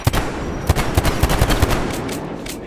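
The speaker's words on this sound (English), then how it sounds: "So it looks like my pistol is my best bet again." Pistol shots ring out in a video game, about eight sharp, loud cracks fired in an uneven rapid sequence over steady background game noise.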